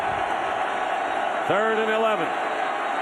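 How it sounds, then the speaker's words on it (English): A steady, loud roar from a packed stadium crowd at a 2007 NFL game, Philadelphia Eagles at Minnesota Vikings, fills the background continuously beneath an announcer's voice. "And the crowd is like they should be right now."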